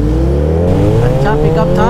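Kawasaki Z900 and Suzuki Hayabusa motorcycles launching in a drag race, their engines roaring close by and climbing steadily in pitch as they accelerate.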